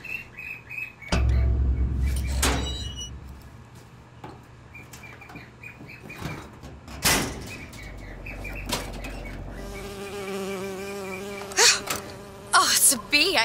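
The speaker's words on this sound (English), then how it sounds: "Oh, it's a bee. I hate these things." A bee buzzing in the video game Bioshock Infinite, with whirring wing drones and insect hums among game sound effects and music, loud bursts coming and going across the scene.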